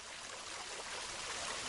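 Running river water trickles and rushes in a brief, soft, steady wash of broadband noise with faint gurgling texture, heard alone.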